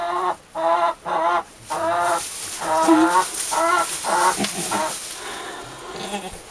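Chickens cluck and squawk on a farm in several short loud bursts, then a denser run of overlapping calls fading toward the end, close to the listener.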